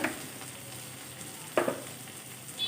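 Chopped onion, crushed garlic and slit green chilies fry in hot oil with a soft, steady sizzle, broken once by a sharp clatter of stirring.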